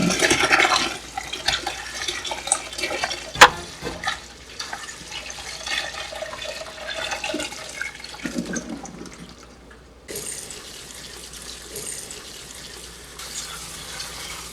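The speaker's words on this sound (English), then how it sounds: "we're rinsing the salt away from this" Tap water gushes over brined vegetables for Italian giardiniera, rinsing away the salt as a loud, steady splashing stream. It runs for about ten seconds before dropping to a quieter trickle.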